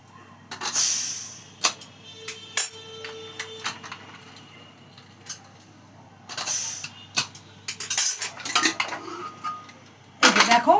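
A metal lid is worked loose and lifted off a cooking pot of boiled mung dal, giving scattered clanks, scrapes and rattles in short bursts with quiet gaps between.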